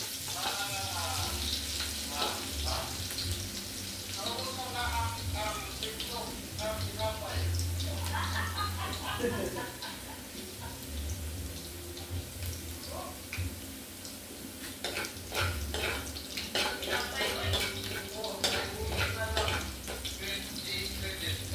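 Garlic and ginger fry in a pan for a chicken curry, a steady sizzle running throughout with occasional stirring clatter and water sounds, while people talk over it intermittently.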